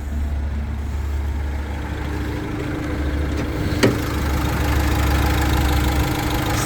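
A 2019 Renault Master van's diesel engine idles steadily and close, a low rumbling drone with a faint rattling knock, one brief tick partway through.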